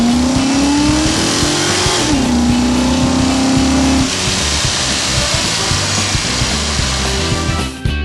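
A police car speeds away through city streets, its engine revving with a rising and falling tone over a loud, steady roar, then settling into a broad rushing drone before cutting off.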